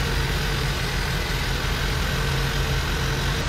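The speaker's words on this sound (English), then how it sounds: "but sure running like it's got a vacuum leak again." A truck engine idles roughly after a rebuild, with a suspected vacuum leak and leaking intake gaskets: a loud, steady, close low-pitched rumble with a constant drone and no speech.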